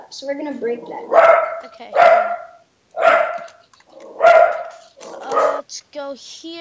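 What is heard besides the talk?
dog barking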